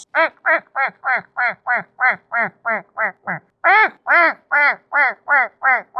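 A human voice imitates a duck, giving a steady run of about seventeen loud, nasal quacks in even rhythm, close up, with a brief pause before a stronger second burst.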